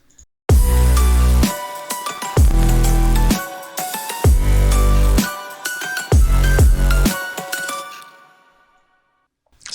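The second drop of the NCS electronic track: heavy pulsing bass hits in repeated blocks under bright bell-like synth melody, loud and full before fading out near the end.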